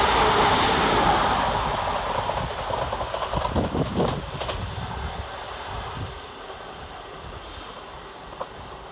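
Class 350 electric multiple units run by London Northwestern pass through Dudley Port station in a steady, loud rush of rolling wheels and air that slowly fades over several seconds, with no voices.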